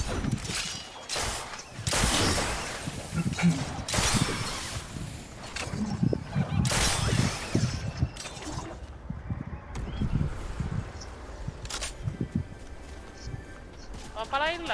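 Bursts of video game gunfire crack out in several clusters, loud and close, with talk and game sounds between the volleys.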